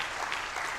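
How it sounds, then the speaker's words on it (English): An audience at a plenary conference session applauds the event staff, a brief, dense, continuous wash of clapping throughout. "please give them a round of applause"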